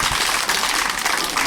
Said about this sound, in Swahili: Wasichana ningefikiri mngenipigia hata makofi jamani.